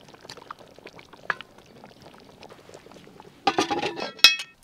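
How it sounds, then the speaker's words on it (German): Duck and potato stew in sauce bubbles inside a Dutch oven at an outdoor kitchen, a faint, soft, continuous burbling that gives way to louder sputtering pops and metallic clinks near the end. "Hört ihr, wie das blubbert?"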